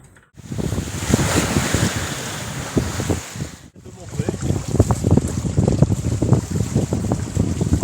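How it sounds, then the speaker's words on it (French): Sailboat at sea in 16 to 18 knots of wind on a beam reach, with loud wind buffeting the microphone and waves sloshing and breaking against the hull in an irregular, continuous churn, briefly interrupted once. "On a entre 16 et 18 nœuds de vent."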